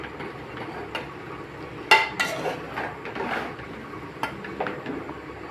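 Vegetable noodles being tossed and stirred in a large pan, with a few light, scattered clinks and scrapes of a utensil against the metal over a quiet background.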